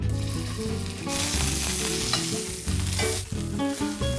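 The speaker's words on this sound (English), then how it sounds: "I gotta sear this quickly until it's brown all over" Beef fillet sears loudly in a hot pan with olive oil, giving a continuous close sizzle broken by the scrape and clatter of the meat being turned, and no voices.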